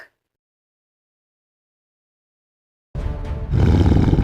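A tiger roars loudly and close after nearly three seconds of silence, a rough, powerful call that swells in two surges and holds to the end.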